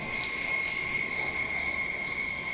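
Insects chirping outside in the countryside at night, a continuous high, thin drone with faint pulsing chirps over a low hiss of background noise, fairly quiet and unbroken.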